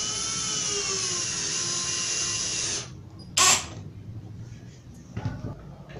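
Power driver whirring steadily as it drives screws into 18 mm melamine board, a long sustained run of nearly three seconds followed by a short high burst and quieter handling clatter.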